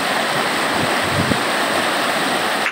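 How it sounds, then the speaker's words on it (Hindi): Floodwater fills a village in a broad, sea-like rush, a constant loud roar of moving water close by with no voices. "थोड़ा पानी की आवाज़ सुनकर"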